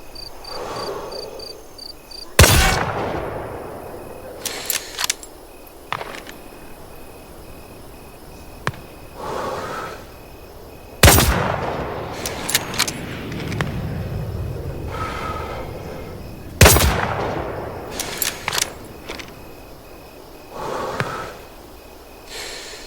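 Bolt-action rifle fire in the shooter game Hell Let Loose: Vietnam, three loud sharp shots spaced several seconds apart, each followed by mechanical bolt-cycling clicks, with ambient insect chirping in the background.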